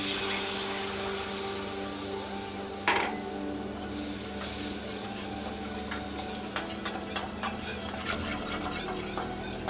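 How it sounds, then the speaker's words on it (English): Cold water is stirred into a soup of flour and garlic in a pan, with a steady bubbling sizzle, a sharp clink of a utensil and light scraping and swishing close by. "Add a glass of cold water and mix."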